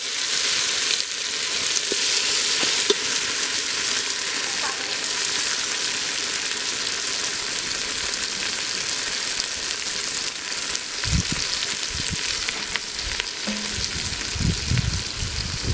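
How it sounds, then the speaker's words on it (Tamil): Tomatoes and curry leaves sizzle and fry steadily in a pan for pigeon curry, a continuous close hiss with a few soft stirring bumps near the end. "நல்லா வதங்கிருக்கு தக்காளி"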